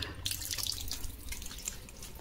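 Water runs steadily from a household tap pipe, a continuous close hiss with faint splashing and drips over about two seconds, with no one speaking.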